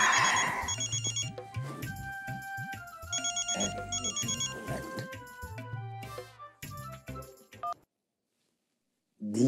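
A telephone rings with repeated electronic tones and chimes, fairly loud and close, before cutting to near silence, then a short burst returns at the end.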